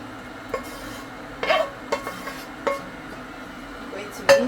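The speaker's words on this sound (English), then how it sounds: "now I am going to add my eggplant" Crushed eggplant tipped into a stew pot, with a few scattered clinks and scraping knocks of utensil against the pot over a faint background hiss, soft and close, spaced irregularly.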